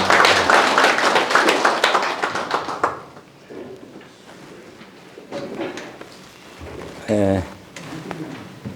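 Applause from a lecture audience, a burst of brisk clapping that fades within about three seconds, followed by someone speaking in a hall.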